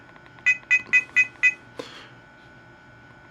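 Five quick evenly spaced electronic beeps as a password is keyed into a Miufly police body camera, followed by a single softer click and faint hum, then one more beep at the end.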